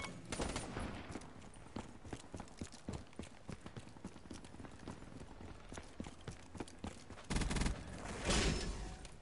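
A deployed sentry gun in a multiplayer shooter game fires near-continuous rapid bursts of gunfire, loud and close, swelling into heavier volleys toward the end.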